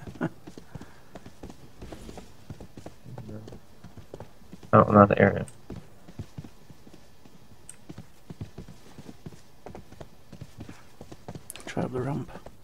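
Rhythmic clip-clop of a horse's hooves galloping in the RIFT online role-playing game, a steady patter of footfalls under occasional talk and keyboard clicks, with a louder burst midway.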